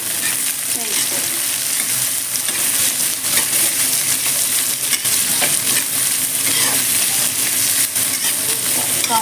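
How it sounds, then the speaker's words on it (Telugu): Thinly sliced large onions frying in a pan with chicken masala nearby, a steady close sizzle with stirring scrapes and clinks throughout, no one speaking. "ఆనియన్ మంచిగా వేగితే సరిపోతాయి."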